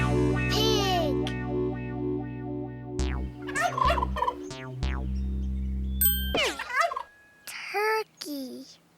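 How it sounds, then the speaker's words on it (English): A turkey gobbles in several rapid, warbling bursts, loud and close, alternating with short pauses and set over a steady low hum, with a few brighter bird calls near the end. "Turkey. Turkey."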